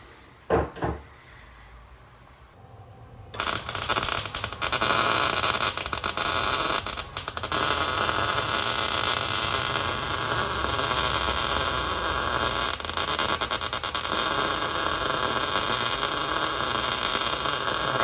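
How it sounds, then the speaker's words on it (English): Tack welding on a Toyota Tacoma passenger-side frame repair: a few clicks and a knock, then a loud, steady crackling buzz of the welding arc that runs on with short breaks. "We're gonna start welding that one up."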